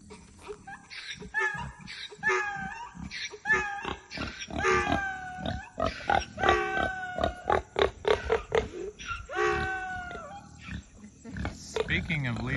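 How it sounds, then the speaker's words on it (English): Kunekune pigs grunt and squeal in a sow pen, a busy run of close, rhythmic oinks and higher-pitched squeals with a voice talking under the animal noise. "we're here with our sow pen and Leroy."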